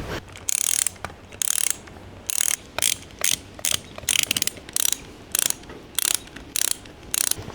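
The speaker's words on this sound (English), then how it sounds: "We got ye old ratchet around here." An old hand ratchet tightens bolts on an engine stand for a 1970 engine, its rapid clicking bursts repeating in a steady back-and-forth rhythm, close and clear with no talking.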